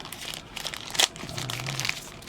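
A plastic bag crinkles softly and close by while a box holding a Sequre HT140 hot tweezers set is unpacked, with one sharper rustle midway among lighter rustling.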